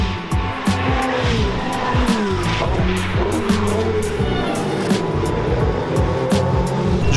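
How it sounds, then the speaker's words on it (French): Race cars lapping the circuit at the Canadian Formula 1 Grand Prix in light rain, engines roaring and shifting as they pass nearby, a continuous loud mechanical drone with rising and falling pitch, with faint crowd noise around. "Il y a des voitures qui roulent, c'est quoi, c'est Porsche?"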